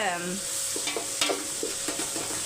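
Onions sautéing in a pan, a soft steady sizzle broken by several quick scrapes and knocks of a spoon stirring them, close by with no talking.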